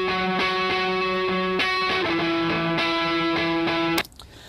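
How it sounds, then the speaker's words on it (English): A slightly distorted rock electric guitar track plays chords with a gritty, sustained tone, changing every second or so, then cuts off abruptly near the end. "just a slightly distorted guitar. Sounds like this."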